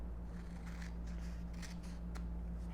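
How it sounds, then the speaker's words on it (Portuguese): Scissors snip the ends of a strip of kinesio tape during a wrist taping demonstration, a few quick close cuts over a steady low hum, with no talk. "É importante cortar as pontas para não descolar tão fácil"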